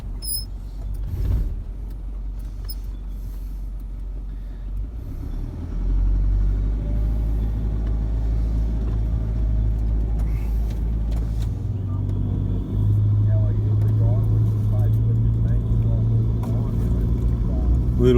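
A 4x4 vehicle climbs a steep high country track in the Jamieson area, its engine giving a loud, continuous low rumble that deepens and strains partway through, with occasional knocks from the rough ground.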